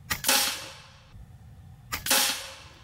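Two shots from an FX Impact M4 .22 caliber air rifle firing pellets at a bullseye target, each a crisp close crack with a short ringing decay, spaced about two seconds apart with no talk.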